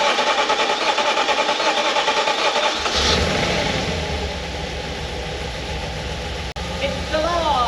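A B7 Audi RS4 engine, just back together after fuel rail work, catches and fires up with a push-button start, then settles into a steady, close idle with a brief click near the end; no talking.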